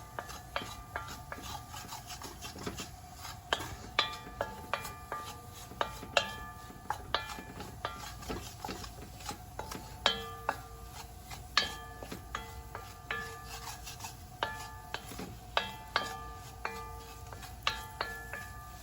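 A spoon stirs New England clam chowder in a pot, making repeated close scraping and rubbing strokes against the pot in an irregular rhythm, with no voices.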